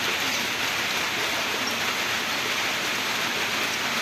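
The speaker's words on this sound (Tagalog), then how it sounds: "Kaya umulan." Steady, dense rain pours down without a break, a constant full hiss with no voices.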